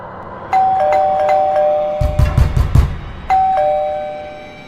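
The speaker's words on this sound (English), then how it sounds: "every time he hears a knock or doorbell sound" A doorbell rings twice with a two-note ding-dong, separated by a burst of heavy knocking or thumping in between.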